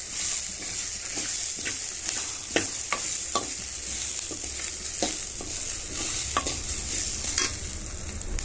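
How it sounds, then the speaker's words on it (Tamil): Tomatoes sautéing in a pan for urad dal chutney, stirred: steady close sizzling with a bright hiss and regular sharp scrapes and taps of the spatula against the pan, no voices. "தக்காளியும் போட்டு நல்லா வதக்கி எடுத்துக்கலாம்."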